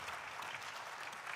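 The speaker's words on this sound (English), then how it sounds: "Let's give him a round of applause, ladies and gentlemen." Audience applause at a conference session on climate resilience in African agri-food systems, a dense steady patter of many hands clapping, fairly faint and uninterrupted for its brief length.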